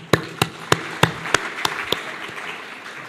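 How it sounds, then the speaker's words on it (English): At a scientific conference forum on infection and immunity, a few scattered handclaps ring out sharply in a slow, uneven sequence, then fade into room tone. "let's give them a round of applause for their dedication"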